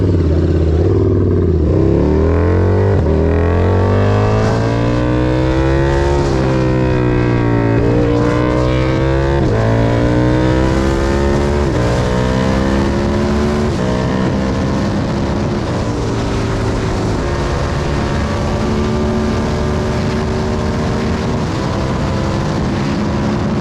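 A KTM 1290 Super Duke R motorcycle is ridden on the road. Its engine roars loud and close throughout, with revs rising and falling in repeated sweeps over steady wind rush.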